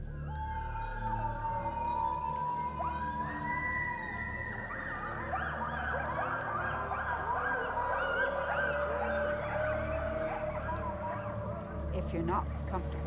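A wolf pack howls in the wilderness, several long overlapping wavering howls rising and falling together in a sustained chorus over a low rumbling background, with a brief sharp noise near the end.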